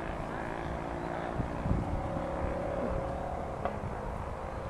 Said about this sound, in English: quite a busy road in that direction too, hence the noise of the traffic